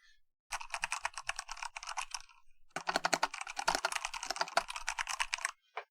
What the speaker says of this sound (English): And a Ducky Tinker 65 keyboard.